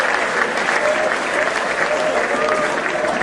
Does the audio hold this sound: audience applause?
yes